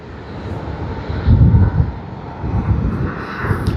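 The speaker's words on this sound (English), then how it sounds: "Capital Airlines from Qingdao on the Airbus A330" A Capital Airlines Airbus A330-300 from Qingdao, arriving at Sydney Airport, gives a loud, steady jet roar heard from fairly close, with the rumble swelling and easing a little as it passes.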